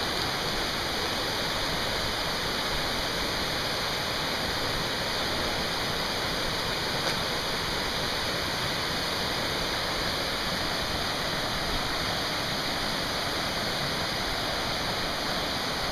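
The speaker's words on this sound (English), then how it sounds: "It's a pretty river." A river in the Great Smoky Mountains rushes past close by, a continuous, even roar of flowing water with no voices.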